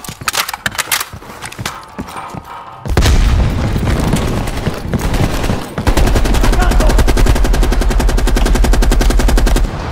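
A grenade blast in Call of Duty: Black Ops Cold War, a loud heavy explosion followed by sustained rapid machine-gun fire with scattered single shots, close and dense.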